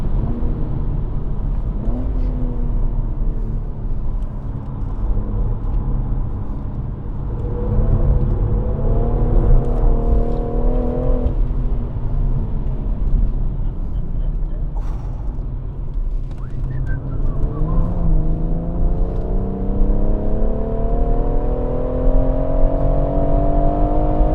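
A BMW M140i laps the Goodwood circuit, heard from inside: the engine drones loudly and continuously, its pitch climbing and dropping repeatedly through gear changes and lifts, with mechanical creaks beneath.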